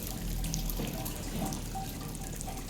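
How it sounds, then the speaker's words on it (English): Steady water noise fills an enclosed, tight space in SOMA: soft trickling and funneling water with scattered small drips over a constant low rush, fairly faint and unbroken. "You can hear all the water everywhere, dripping, funneling."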